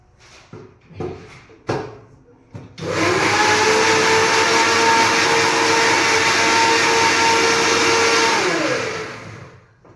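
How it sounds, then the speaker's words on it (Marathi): A kitchen mixer blends chikoo with milk into juice: a few soft clunks first, then the motor starts with a loud, steady whirring roar that holds for several seconds before winding down. "फक्त मी यामध्ये दूध टाकते आणि मिक्सरला फिरवून घेते"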